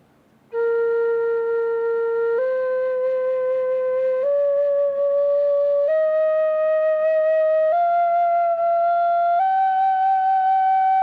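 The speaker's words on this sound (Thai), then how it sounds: "นี่คือเสียงของขลุยเพียงออครับ" A breathy Thai khlui phiang o bamboo flute climbs a slow scale from do, sustaining six steady notes one after another, each held about two seconds, clear and close with no talking.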